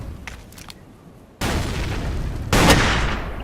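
Gunfire in the video game Ace of Spades: two sharp, loud shot blasts in quick succession, each leaving a sustained booming tail, after a quieter stretch of faint game sounds, with no talking.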